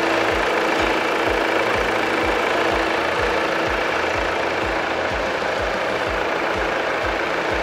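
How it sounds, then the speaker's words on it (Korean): Third-generation Volvo XC70 D4 diesel engine idling, heard from the open engine bay: a steady, even low thrum of regular knocking pulses, close and continuous, with no voices. "엔진 소리 일정하고 좋습니다."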